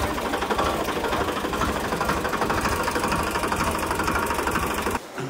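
A steady motor drones at close range for about five seconds during natural indigo dye extraction from Indigofera tinctoria, an even mechanical hum that cuts off abruptly near the end.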